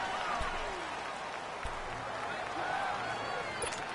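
A football video game stadium crowd roars as a steady, broad wash of cheering and clapping, with a commentary voice speaking over the noise.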